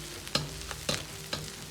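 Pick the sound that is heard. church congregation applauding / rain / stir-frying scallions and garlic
stir-frying scallions and garlic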